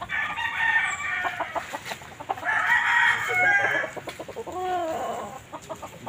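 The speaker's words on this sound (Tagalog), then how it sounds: "Mga inang manok to." Several hens cluck in bursts close by, with a rooster-like call and chattering fowl noises, no talking.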